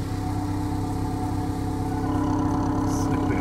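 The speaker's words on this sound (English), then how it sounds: "So I'm just going to start it up and have a listen from underneath." An 8th-generation Honda Civic engine idles steadily and evenly, a continuous low throbbing hum heard up close from underneath the car with no pauses.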